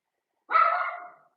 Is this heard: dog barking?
yes